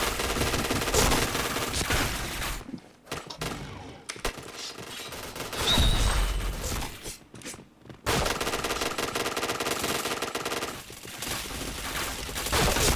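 Rapid bursts of automatic gunfire in a shooting video game, loud and dense volleys separated by short silent gaps.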